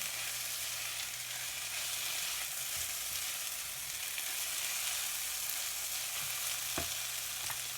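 Chopped garlic sizzles steadily in a hot pan while being stirred, a continuous close frying hiss with a few brief scraping knocks near the end.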